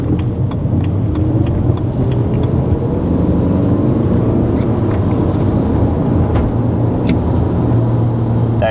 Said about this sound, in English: sort of noise, that is the turbo droning